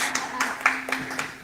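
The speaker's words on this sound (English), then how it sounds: "Yeah, you can clap." Scattered clapping from a church congregation at an Easter service, a handful of sparse claps spread over a brief moment, with a voice talking over them.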